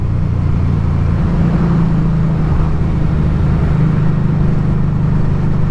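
A Harley-Davidson Street 500 motorcycle accelerates along a road during a ride to work, a loud, continuous engine drone with steady rumble and wind rush close to the rider throughout.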